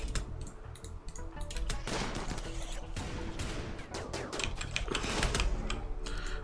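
Rapid rifle gunfire in the video game Genetic Rim, dense crackling bursts firing almost continuously over a steady game soundscape, close and loud.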